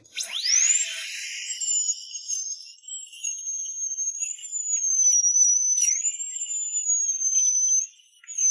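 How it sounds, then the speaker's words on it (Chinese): A dental drill removes decay between two front teeth: a shrill, steady whine that swoops up as it starts and then holds, wavering slightly, for several seconds, close and alone without talk. "醫生看了一眼，二話沒說，連麻藥都沒打，直接上鑽頭先把腐質去掉。"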